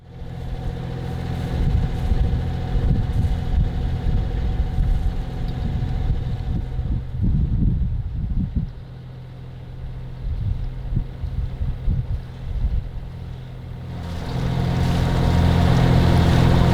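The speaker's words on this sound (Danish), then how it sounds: "Så lad os få startet motoren, tøffe ud igennem, randen," Sailboat inboard engine running as the boat motors out of harbour in Øresund, a steady low rumbling drone with wind noise throughout, growing louder and fuller near the end.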